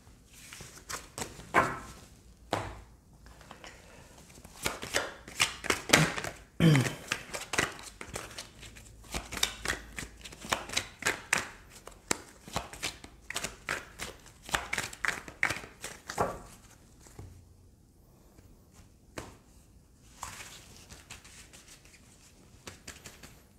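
Close, uneven bursts of card shuffling and cutting from an Amour à mort oracle deck: rapid papery riffles and flicks with short pauses between handfuls, slaps of cards meeting the table.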